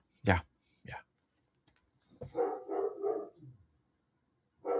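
A dog gives two short, sharp barks close by, then people talk, and another bark comes at the very end.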